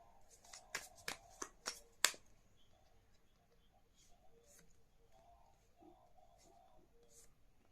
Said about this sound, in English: Let us first pick the 3 cards that you can choose from.